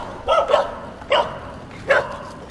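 Several dogs barking on a street in Thailand, three short bursts of sharp barks spaced about a second apart, moderately close against quiet outdoor background noise.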